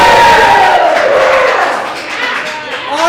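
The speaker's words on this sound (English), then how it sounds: "audience, if you think this tree is a smash, give us a cheer" A live comedy show audience at the Sacramento Comedy Spot roars with loud cheering and whooping, a dense crowd sound with shouted voices that peaks at the start and stays strong throughout.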